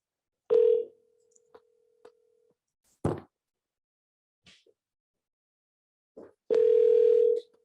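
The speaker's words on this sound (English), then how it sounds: "I'm gonna call her one more time." Outgoing telephone call rings back through the handset: two steady ring tones, one near the start and one at the end, separated by quiet with faint clicks.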